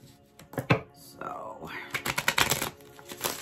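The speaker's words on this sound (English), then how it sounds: "we will start shuffling" Tarot cards being shuffled by hand, a run of quick papery riffles and soft taps, close and moderately loud, with a brief voice in between.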